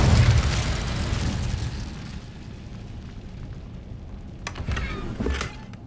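A fire spell cast in the Hogwarts Legacy video game bursts out with a loud booming whoosh, then dies into a low rumble before a few sharp crackling pops near the end.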